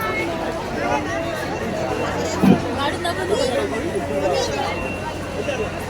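Dense crowd babble at a busy, noisy village fair, many voices chattering at once in a steady close hubbub with a brief louder thump partway through.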